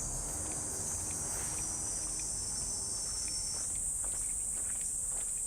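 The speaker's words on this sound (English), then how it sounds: "You can hear cicada buzzing." Cicadas drone in a Tokyo summer morning, a steady high shrill buzz that holds throughout beside a quiet neighborhood shrine, with faint footsteps underneath.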